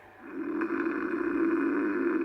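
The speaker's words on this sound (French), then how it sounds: "je reconnais sa manière de ronfler" A person snoring in a comedic radio sketch, one long rough, buzzing, sustained snore, close and steady with no talk over it.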